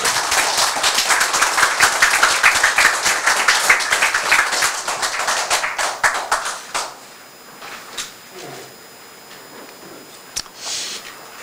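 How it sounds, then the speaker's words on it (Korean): A seated audience at a Daedong Foundation forum claps after a lecture. Brisk, close applause lasts about seven seconds, then stops, leaving a quiet room with a few scattered taps and small movements. "다시 한번 박수를 보내주십니다"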